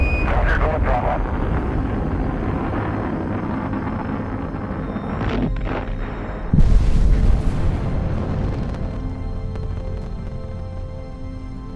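Space Shuttle Challenger launch and explosion: a loud continuous rocket roar with a sudden heavier boom partway through, followed by sustained rumbling, with a voice talking over it.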